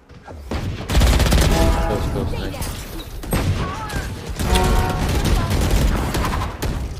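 Rapid bursts of gunfire in a competitive shooter video game rattle almost continuously and loudly, with short pauses between volleys, while players talk over the shooting.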